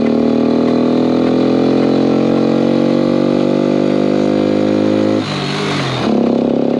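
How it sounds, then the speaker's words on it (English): An original Honda Cub 50cc motorcycle engine pulling in second gear, a loud steady buzzing drone close by with rattly drivetrain noise from a loose chain guard, briefly dipping in the middle before resuming. "A little bit of drivetrain noise from my ill-fitting chain guard. This is second gear."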